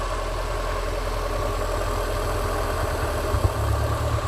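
A car engine idles roughly just after starting, a continuous low rumble with an uneven, faltering pulse, steady and close with no talk.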